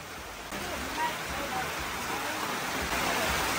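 Steady rain falls in a constant hiss, even and unbroken, with a faint voice murmuring in the background.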